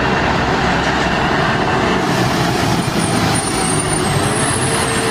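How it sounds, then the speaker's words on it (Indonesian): A concrete mixer truck runs nearby with a loud, continuous heavy-engine rumble and broad mechanical roar that holds steady throughout, with no voices. "Ini truk molen."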